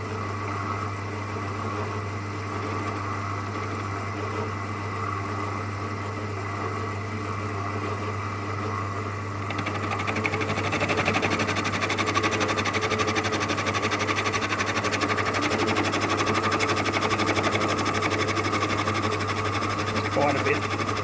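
A Hercus metal lathe runs with a steady droning hum while facing off a workpiece; a brighter, rougher cutting noise joins the motor whine about halfway through and continues to the end.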